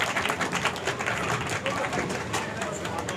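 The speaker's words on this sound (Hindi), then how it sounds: "आप सबकी भरपूर तालियों में शाह साहब" An audience at an annual prize ceremony of a shorthand academy in Lahore applauds in a dense, steady wash of clapping, with a voice speaking over it throughout.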